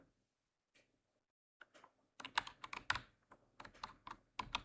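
Typing on a computer keyboard, starting with a few isolated key taps, then a quick run of crisp, close clicks in uneven bursts.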